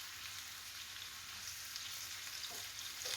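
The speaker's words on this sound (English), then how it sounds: "I'm going to let them fry off until they're ready" Chickpeas seasoned with salt fry in a pan, giving a steady, close hiss and sizzle with faint crackles throughout and no talking.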